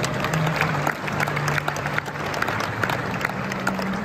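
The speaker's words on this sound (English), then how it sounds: "Let's give the children an applause," Audience applause for children at an Americana 2023 horsemanship event, a steady, dense wash of many hands clapping with faint crowd murmur and a low hum beneath, sustained for a few seconds.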